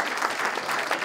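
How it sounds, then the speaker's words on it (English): Applause at a wedding as the bride enters, a dense, steady burst of many hands clapping close by with no voices over it. "Ruthie's applause ushered in the bride."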